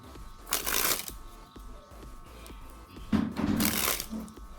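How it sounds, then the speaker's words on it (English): A deck of playing cards is shuffled twice during a magic trick, each a close, crisp riffling burst lasting about a second, separated by softer handling clicks. "The card is fully mixed in the deck."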